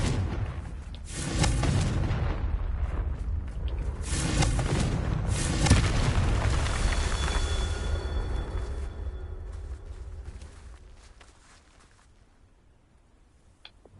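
Repeated Confringo fire spell explosions in Hogwarts Legacy boom and rumble heavily over several seconds, loud and dense, then gradually fade into a quieter tail.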